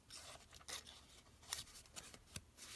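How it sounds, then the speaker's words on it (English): Scissors cut a small paper rectangle with a series of faint, close snips and crisp rustles, irregularly spaced, with no talking. "let me just cut that out all together"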